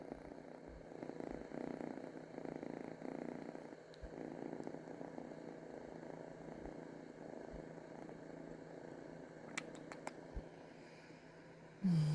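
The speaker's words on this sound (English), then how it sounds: "You hear her purring?" A cat purrs softly and continuously close by, a low steady rumble running under the hum of a large fan, with a few faint clicks and no talking.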